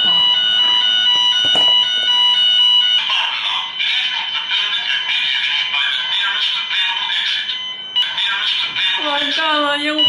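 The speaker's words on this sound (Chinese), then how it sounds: "烟雾报警器真的响了" A smoke alarm in a small home goes off directly above steaming hotpot, sounding a loud, continuous high-pitched electronic beeping close by while voices react over it.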